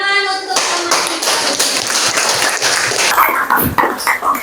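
A school classroom of students claps hands for a classmate, a brisk burst of close, crisp clapping with some voices underneath, after a brief tonal sound at the start.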